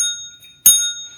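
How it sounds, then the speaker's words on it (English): A bicycle bell used as a prop rings twice, bright metallic dings, the first decaying for about half a second and the second cut short, loud and close with no talking. "You're gonna sing on a bike bell."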